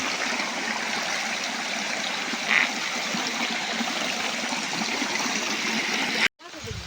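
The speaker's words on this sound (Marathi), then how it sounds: "पाण्याचा आवाज एकदम खुळखुळ येतो" Water pours over a waterfall in the Konkan during the rainy season, a continuous loud rushing hiss that stops suddenly near the end.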